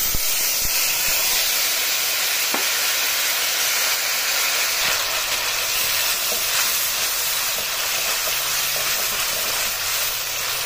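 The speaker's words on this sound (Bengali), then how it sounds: "কালো জিরেটা ভাজা হয়ে গেলে দিয়ে দিচ্ছি ওই টমেটো বাটাটা।" Tomato paste sizzles in hot mustard-oil left from frying pabda fish, with black cumin already fried in it, a loud continuous hiss close by that carries on without letting up and with no voices.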